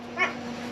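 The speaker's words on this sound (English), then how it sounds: "look at these dogs, they're everywhere" A dog on a large rural property gives one short, faint yip or whimper in the middle distance, with a steady low hum running underneath.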